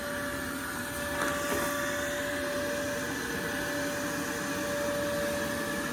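A vacuum hums steadily and loudly while sucking up wasps from a nest during a triple wasp nest removal, a constant motor drone with a faint high whine and a brief knock early on.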